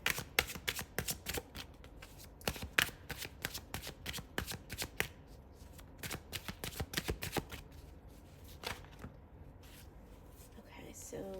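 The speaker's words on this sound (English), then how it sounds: "I will actually pull some more cards for you" Tarot cards being shuffled and drawn during a card reading: a long run of crisp, rapid riffling flicks and slaps, close and fairly quiet, thinning out toward the end with a few soft handling rustles.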